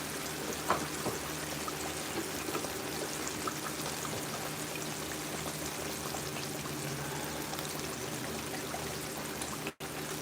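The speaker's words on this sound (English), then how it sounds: "we're going to add a little bit of oil to this pan right here" Vegetable oil pours into a frying pan in a steady, soft, even stream lasting several seconds, faint and close, ending with a tiny click.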